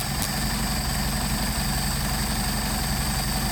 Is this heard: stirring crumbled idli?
no